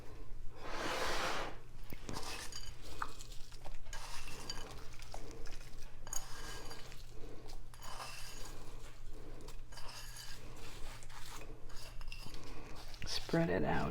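A utensil scrapes and clinks against a dish while spreading a topping of French fried onions or breadcrumbs over a cheesy asparagus casserole, close and steady, with light intermittent clatter throughout.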